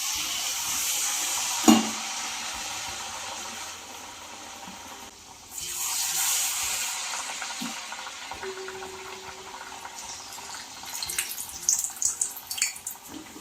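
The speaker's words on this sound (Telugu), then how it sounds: "అలా రెండు వైపులా తిప్పుకుంటా గోల్డ్ కలర్ వచ్చే వరకు కాల్చుకోవాలి." Palm fruit fritters fry in hot oil over a low flame, making a soft continuous sizzle with occasional crackles and pops that grow busier toward the end.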